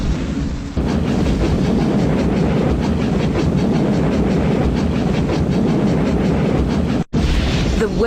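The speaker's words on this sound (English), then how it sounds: "The word train has stopped at the station." Word-train literacy video game's train effect: a loud steady rolling rumble with rhythmic clickety-clack running for several seconds, briefly cutting out near the end before resuming.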